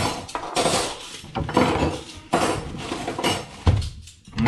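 Dishes being unloaded from a household dishwasher, with repeated clattering knocks of crockery and cutlery coming in bursts at close range, and no one speaking.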